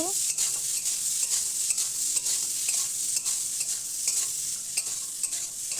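Amla pickle mixture with turmeric and salt stirred in a pan, repeated scraping and stirring strokes over a soft sizzle, close and rhythmic without talk.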